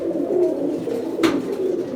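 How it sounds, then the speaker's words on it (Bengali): Pigeons at a pigeon farm coo softly in low, rounded calls, close and steady, with faint background noise. "তো আরো কিছু কবুতর আছে সেগুলো"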